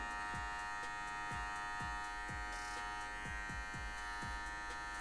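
An electric finishing trimmer buzzes steadily, close and faint, as it is run backwards to cut a simple freestyle design into hair, with regular soft clicks as the blade strokes across the head.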